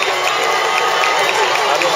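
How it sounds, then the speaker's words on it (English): Crowd applause and cheering along Front Street at a mile road race, a dense continuous roar of clapping, loud and close. "Let's give Bart Yasso a round of applause,"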